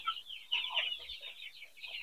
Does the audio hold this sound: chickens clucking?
yes